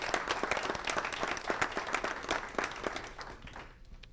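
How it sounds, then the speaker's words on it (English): Audience applause fills a school board meeting, a dense, steady clatter of many hands at moderate volume that thins out and fades near the end. "one more round of applause for all"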